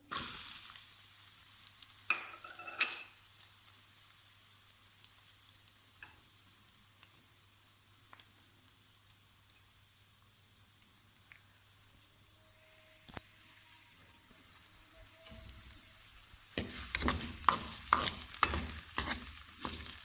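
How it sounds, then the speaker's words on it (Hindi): Sliced onions dropped into hot oil in a pan, a quiet stretch broken by a few clinks and stirring, then a sudden burst of crackling, spitting sizzle that stays loud and busy through the end. "यहाँ पे हमने तेल पहले ही गर्म होने के लिए रखा है। अब इसमें प्याज डालते हैं।"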